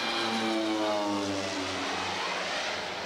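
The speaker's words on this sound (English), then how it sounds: "you heard that airplane as it landed" A propeller airplane lands near Meigs Field, its engine drone heard from a moderate distance with tones sliding gradually downward over a few seconds.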